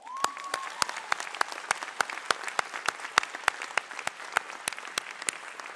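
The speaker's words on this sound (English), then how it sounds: "So graduates, will you join me in a round of applause for your biggest fans?" A seated audience at a pharmacy doctoral hooding ceremony claps warmly and steadily for the graduates' families, with dense sustained applause throughout and a brief whistle near the start.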